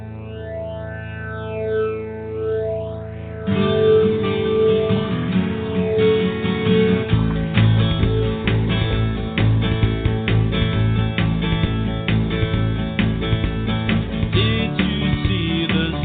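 A new age song by a Billboard-charting recording artist plays: a quiet, sparse intro, then the full arrangement swells in with layered, effect-heavy sustained tones and a steady pulse, and no voices are heard.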